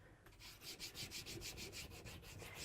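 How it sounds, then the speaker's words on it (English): Chalk is rubbed lengthwise over chalkboard vinyl in quick back-and-forth strokes, making a soft, rhythmic, close scraping that repeats about ten times. "I just take my chalk and I take the long side and I just kind of rub it over so it grabs that chalk"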